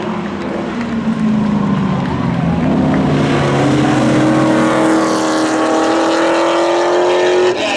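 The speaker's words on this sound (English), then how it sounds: "Matt DeRozier's looking for the checkered flag, coming across the stripe." A drag racing car at a Labor Day spectator drags event at Seekonk Speedway roars loudly across the finish line, its engine note climbing steadily as it accelerates, with a continuous heavy exhaust drone and no pause.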